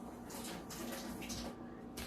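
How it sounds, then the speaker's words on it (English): Tap water runs steadily while food is rinsed during preparation of BBQ pork loin ribs, a continuous close hiss with faint clatter and no voices. "Rinse it off."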